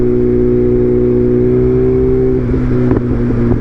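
A BMW M1000R Competition motorcycle with a titanium header and mid pipe drones at about 3,000 RPM in fourth gear, a loud steady low hum with tonal bands that wavers slightly near the end as the throttle shifts.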